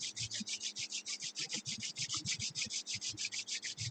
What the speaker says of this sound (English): Then you may start to rub your hand. Make it warm.